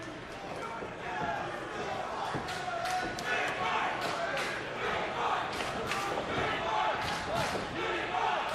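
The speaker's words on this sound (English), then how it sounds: "You hear the crowd with the Big Mike chants." A wrestling crowd at a Ring of Honor match between Michael Elgin and Silas Young fills the arena with loud, sustained chanting and cheering for Big Mike, a dense roar running the whole time.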